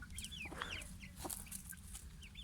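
Chickens clucking softly nearby in a coop, several short calls scattered over a quiet background.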